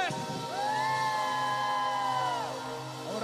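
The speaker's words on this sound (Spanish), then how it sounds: "a la cuenta de tres, me van a dar el mejor grito de victoria" A large crowd of young people at a Christian youth congress lets out a loud, sustained victory shout together, cheering and whooping over a held tone for about two seconds before it fades.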